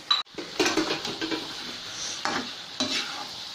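A spoon scrapes and stirs through pepper chicken in a pan as lemon juice is mixed in, giving a few short bursts of metallic scraping over a soft sizzle, heard close and without talk.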